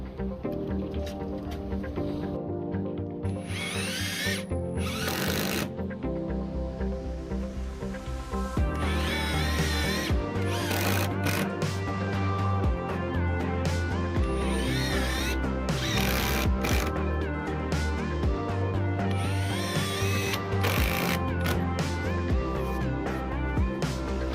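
Power drill driving color-matched screws into Trex composite deck boards during a saddle deck install, with repeated loud whirring bursts and pauses between screws, mixed with background music.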